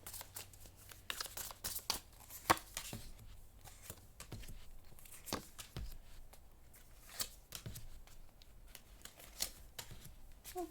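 A Gustav Klimt tarot deck being shuffled by hand, soft papery riffles and flicks in quick irregular bursts, close and quiet with no talking.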